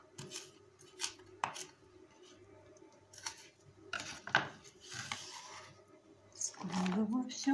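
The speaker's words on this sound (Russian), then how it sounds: "Нарезаю аккуратно лук." A knife slices onion for a marinated onion side dish, a series of irregular crisp cuts against a board, quiet and close, with soft rustling between strokes.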